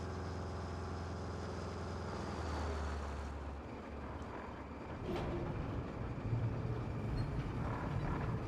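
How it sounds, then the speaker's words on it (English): Truck engine in the RoadCraft video game running rough on only one or two cylinders, a steady low rumbling drone with a shift in tone partway through, alone without talk. "truck is working on just 1 or 2 cylinders, boss"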